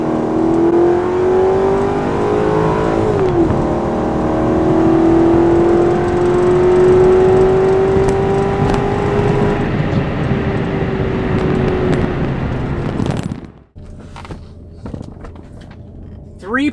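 A Mercedes car accelerates hard while racing a C5 Corvette, its engine note rising steadily and loudly through a long pull before abruptly cutting off near the end.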